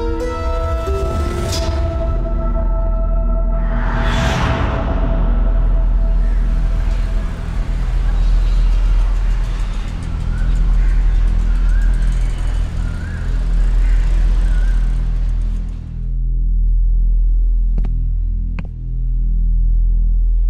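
A car engine hums and throbs steadily at close range, then fades as the vehicle pulls away, leaving near silence with a couple of faint clicks.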